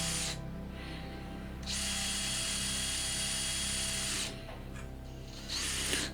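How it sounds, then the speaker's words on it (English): A drill whines steadily through two long bursts with a short gap between, boring pilot holes into wood close up over a constant low hum. "Then I'm going to drill some pilot holes through from the other side."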